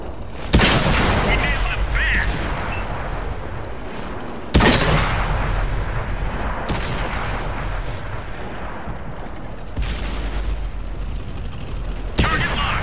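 Cromwell tank cannon fire in a video game: several heavy booming shots with sharp onsets and long rumbling decay, loud and close over continuous battle noise.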